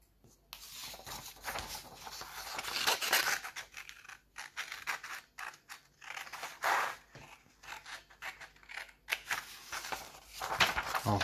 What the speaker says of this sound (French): maintenant, on peut découper